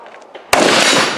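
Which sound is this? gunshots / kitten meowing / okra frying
gunshots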